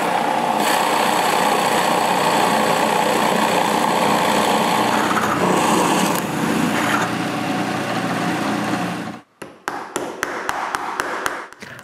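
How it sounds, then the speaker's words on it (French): A drill boring holes in a wooden doweling jig, a steady loud whine running for about nine seconds, then stopping and giving way to a string of sharp taps and short bursts. "Mais avant tout, il faut percer les trous."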